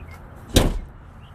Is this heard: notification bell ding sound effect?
no